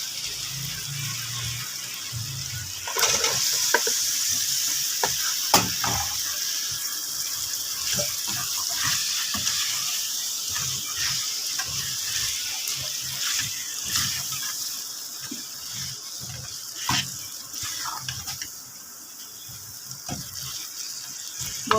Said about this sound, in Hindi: फिर मैं इसमें डाल दूँगी 1 गिलास पानी।